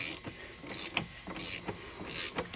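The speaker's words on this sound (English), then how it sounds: "we'll get this screwed in, and then we're going to put the socket back on" A socket ratchet tightening the oil drain plug on a Toyota Supra, a close series of quick mechanical clicks and metallic rasps in short uneven bursts, with no talking.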